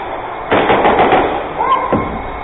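Airsoft gun firing during a close-quarters CQB match, a quick burst of muffled pops followed by a couple of sharper single shots, close by and fairly loud, with faint voices in the background.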